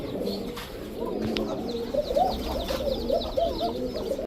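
Pakistani fancy pigeons coo in soft, repeated rolling calls over a low murmur of background noise at a pigeon farm, several birds close by, no talking.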